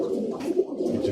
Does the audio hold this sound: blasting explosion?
no